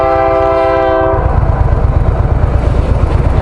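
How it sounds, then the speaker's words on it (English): A freight train passes close by, its loud horn blaring a chord of steady tones for about a second before giving way to a heavy, rhythmic rumble and clatter of rail cars rolling past. "Here's the train."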